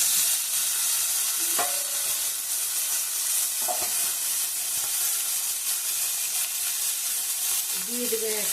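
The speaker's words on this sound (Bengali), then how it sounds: "এবার আমি উচ্ছেগুলো ভেজে নেব।" Bitter gourd pieces fry in a pan with a loud, continuous sizzle, broken by occasional scrapes and clinks of a spatula as they are stirred.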